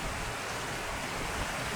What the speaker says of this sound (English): there's quite a bit of moving water, and you can doubtless hear it through the microphone